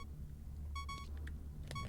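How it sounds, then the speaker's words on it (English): Short electronic beeps in a tone-rich pattern, several quick pips over a low steady rumble, fairly faint and with no talk. "Sorry about the beeping,"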